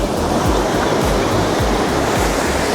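Pacific Ocean surf at Camp Pendleton beach in Oceanside, California rolls in as a loud, steady roar of breaking waves mixed with wind buffeting the microphone, with no talking.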